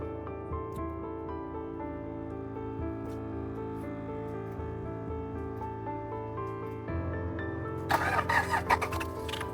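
A Toyota Land Cruiser or Ford Bronco engine cranks and catches, then settles into a steady running hum; near the end a burst of hissing, crackly noise rises over it.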